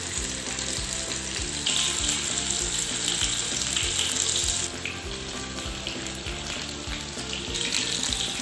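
Mutton chapli kebabs made from raw minced meat fry on low heat in a pan, giving a steady, fairly loud sizzle that runs unbroken throughout with no talking.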